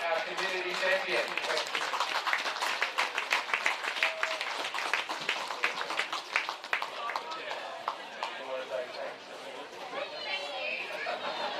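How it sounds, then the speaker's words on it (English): Crowd applause for a community champion at a women's Statewide Cup final football match, a dense patter of clapping with crowd chatter and voices mixed in, swelling then thinning toward the end. "I'd like you to give her a round of applause"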